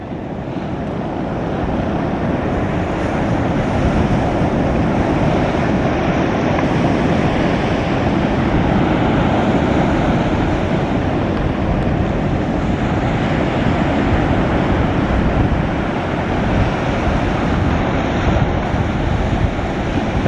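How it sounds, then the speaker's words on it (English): Waves washing onto a beach beside a 22-foot Yeld Cat catamaran, a loud, steady broadband rush of surf mixed with wind buffeting the microphone, with no voices. "waiting for the waves to wash on to the beach"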